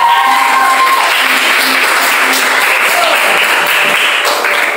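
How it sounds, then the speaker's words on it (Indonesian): A classroom of students bursts into loud, even applause, a dense close clatter of many hands clapping continuously throughout, with a few faint voices underneath. "tepuk tangan untuk semuanya dulu"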